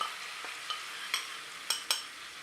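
Flour being whisked into melted butter in a pan: a faint, steady soft sizzle with several sharp whisk taps against the pan spaced through the short stretch.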